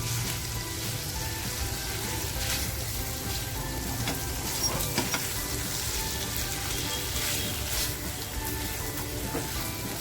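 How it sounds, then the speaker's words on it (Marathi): Chicken fries in a spicy Saoji-style masala with jowar flour, producing a loud, continuous sizzle with occasional sputters and stirring scrapes. "बघा मसाल्यामध्ये आपलं चिकन असं छान फ्राय झालेलं आहे"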